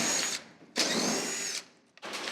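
Power drill backing screws out of a steel wall stud in a new steel building, two sustained high whirring bursts with a short pause between and a third starting at the end, close and loud.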